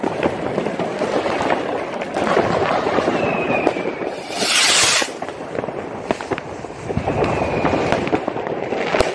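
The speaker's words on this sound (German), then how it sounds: "So, da haben wir hier Rakete noch" Silberkreisblitz firework rockets on New Year's Eve, with loud crackling bursts and sharp pops over a dense background of distant fireworks, including one bright hissing blast near the middle.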